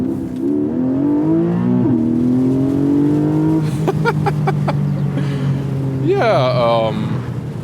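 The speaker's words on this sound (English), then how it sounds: "here with the 4-liter 6-cylinder flat engine. Sport Plus mode, you already hear it. And let's accelerate it out." A Porsche 718 Boxster GTS with a 4-liter flat-six engine in Sport Plus mode accelerates hard, the engine note climbing loudly through rising revs with a brief shift break, then surging again.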